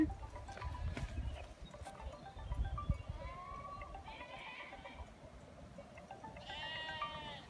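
A flock of sheep on a hillside bleats in several separate calls, moderately distant and faint over rustling and hoof sounds, with the clearest bleats near the middle and end.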